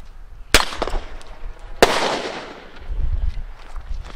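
Two sharp bird-scare banger cartridge bangs about a second apart, each followed by a crackling, echoing tail, with outdoor rumble in between.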